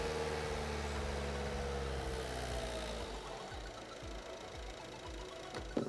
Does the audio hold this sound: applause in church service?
no